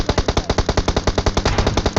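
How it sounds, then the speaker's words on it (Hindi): Heavy automatic gunfire from the video game PUBG Mobile, a loud, rapid, steady stream of close shots firing nonstop, about eight to nine rounds per second, with no talking. "और तभी हम पे जो है बहुत गंदी वाली फायरिंग होती है।"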